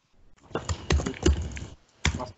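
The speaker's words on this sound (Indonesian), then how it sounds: "kok lagi ngetik ya?" Someone types on a computer keyboard during an online geology webinar, giving a short burst of close, uneven clicks and taps over a muffled call line.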